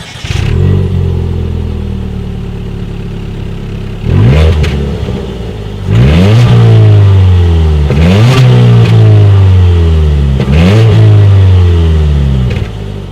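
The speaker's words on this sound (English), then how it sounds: "As always, here is that exhaust clip." A 2019 Ford Fiesta with a single exhaust revs hard from idle in four loud, close bursts, each rising sharply in pitch then falling back, with no talking.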